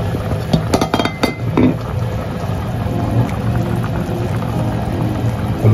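Pork paksiw is stirred in a cooking pot, with a few quick metallic clinks of utensil against the pot early on, then a steady bubbling simmer hissing underneath, close by.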